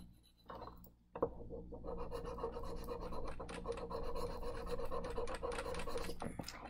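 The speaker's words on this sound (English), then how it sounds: "I'm going to do a little scratch test, just a small one, because I don't want to damage the" Sterling silver jewelry rubbed against a test stone in a scratch test, giving a steady gritty rasping scrape that continues for several seconds, close and fairly quiet, with no talking.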